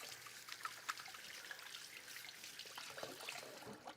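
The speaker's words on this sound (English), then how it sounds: "I'm going to wash my hands very quickly." Tap water running as hands are washed in a home kitchen, a faint steady trickle and splash with small irregular drips, heard alone.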